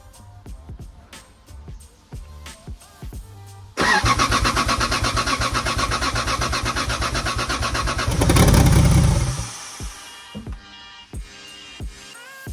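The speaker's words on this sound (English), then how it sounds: "So we did just start the car" Turbocharged Lexus car engine cranks and fires, running briefly at a loud, steady idle with a short rev before cutting off, surrounded by quieter clicks and handling noises.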